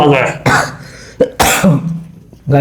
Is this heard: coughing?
yes